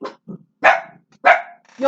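Several dogs bark in short, loud bursts, about four barks spaced irregularly across two seconds, close by and with no talk between them.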